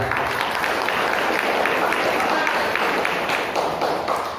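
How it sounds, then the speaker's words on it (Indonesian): Audience applause during an Islamic religious lecture, a steady dense wash of many hands clapping throughout, fairly loud and continuous with no break. "Tepuk tangan untuk YouTuber Agara"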